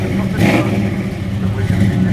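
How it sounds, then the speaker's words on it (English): A V8 engine in an American car at an American car show idles with a steady, loud low burble, a slight swell of revs near the start, with faint background chatter. "Sound of a V8 burble. Listen to that."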